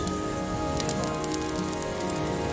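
Steady crackling sizzle of a T-bone steak searing on a grill, close and continuous with faint pops, no voices.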